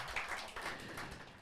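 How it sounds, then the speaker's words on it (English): Church congregation giving a hand clap offering, a short burst of dense, moderately faint clapping from many hands across the room. "In the mighty name of Jesus, let's give the Lord a hand clap offering."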